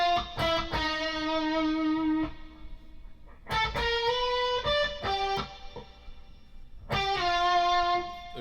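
An electric blues guitar lick played through a distortion effect: three phrases of sustained, bent and shaken notes, each ringing with a gritty, harmonically rich tone, separated by short pauses.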